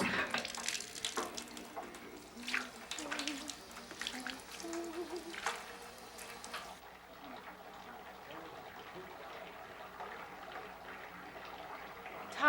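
Water running into a bathtub at home, a steady gushing flow under scattered knocks and faint movement, easing to a quieter, even stream partway through; no voices.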